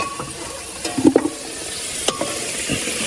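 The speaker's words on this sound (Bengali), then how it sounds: "এবারে আলুটা ভেজে নিই।" Potatoes frying in mustard oil in a pan beside a Sundarbans river, a steady close sizzle broken by a few clattering stirs and scrapes of the utensil against the pan.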